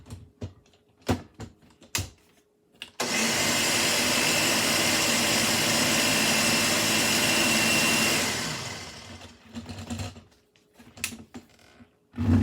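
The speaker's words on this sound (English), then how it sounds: "Just blend those spices up. Just blend those cilantro up just a little bit finer." A blender whirs through watermelon gazpacho with spices and cilantro in one loud, steady burst of about five seconds that winds down, framed by sharp knocks and clatter before and after.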